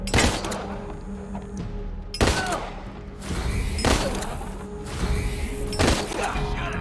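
Gunfire rings out in turn-based combat in Wasteland 3: a handful of loud, separate gunshots with impacts spaced a second or so apart, over a low game background.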